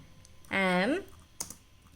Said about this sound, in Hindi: By using keyboard I am writing is something here